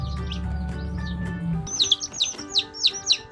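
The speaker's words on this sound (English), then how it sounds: "You hear that chick is chirping really loud." Loud, high chirps from indoor chicks repeat in a quick series, close by, after a low rumbling hum fades out.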